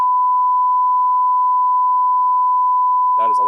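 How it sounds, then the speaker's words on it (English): A loud, steady censor beep at a single pitch runs unbroken for over three seconds and cuts off as a voice begins speaking. "That is a loud beep."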